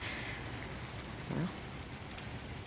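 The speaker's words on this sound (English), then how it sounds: "It's been raining for 3 days now." Steady rain falling as a soft, even hiss, with one brief low thump partway through.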